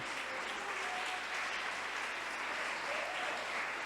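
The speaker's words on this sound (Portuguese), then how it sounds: "Aplauda Ele por isso." Church congregation clapping during a Portuguese-language worship service, a faint, steady wash of applause from a crowd continuing evenly throughout, heard at a distance with no talk over it.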